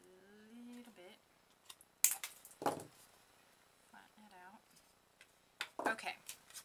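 Cutters slicing paper for coin envelopes: a few crisp snips and rustles, close and fairly quiet, mixed with a person talking in between.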